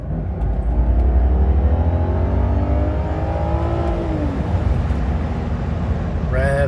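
A BMW E90 sedan's engine climbs steadily in pitch as it revs smoothly toward 7,000 RPM, then drops off as the revs fall away, heard from inside the car with some low road-like rumble.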